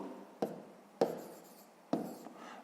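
Pen writing numbers on paper while working through a sixth-grade division exercise, three sharp scratchy strokes with trailing scribbles, close and quiet with no voice.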